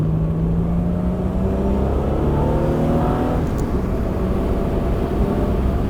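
A V6-swapped Mazda Miata of about 230 hp pulling hard through third gear, a loud steady engine drone rising in pitch from inside the cabin before easing at the shift, no voices.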